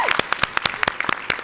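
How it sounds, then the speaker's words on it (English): Conference audience applauds at the Siyaphumelela closing plenary, a brief burst of fairly sparse, distinct claps from a modest crowd, close and moderately loud. "A round of applause for them, please."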